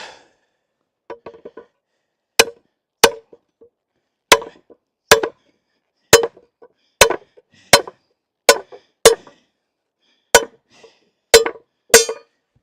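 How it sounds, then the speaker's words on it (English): Heavy sledgehammer blows on a garden fence being straightened, about a dozen sharp, loud impacts spaced irregularly, each ringing briefly, with faint handling noise between. "I need this here and the sledgehammer. I gotta straighten this out."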